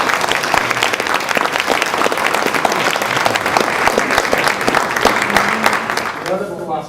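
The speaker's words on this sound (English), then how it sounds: "Round of applause." A business growth class audience breaks into sustained applause, dense overlapping clapping that holds steady and loud before fading out near the end, with a voice briefly heard beneath it.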